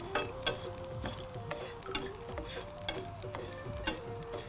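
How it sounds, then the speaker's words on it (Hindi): Crackling, popping sizzle of red chillies and cumin hitting hot ghee for a dal tempering, with scattered sharp clicks and a steady hiss, close by and moderately loud. "घी में लाल मिर्ची डालेंगे इसके तड़के के लिए"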